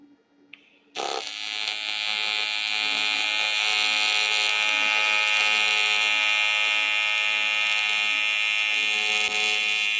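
Cast aluminum being welded at 35% electrode positive, running dirty: a loud, steady, close buzzing hiss that begins abruptly after a brief quiet start and holds unbroken for about nine seconds.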